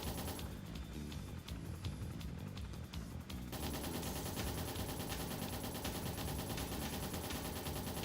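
Rapid bursts of gunfire from the video game Trails in the Sky the 3rd rattle continuously, quieter and thinner at first, then swelling into a dense, sustained barrage.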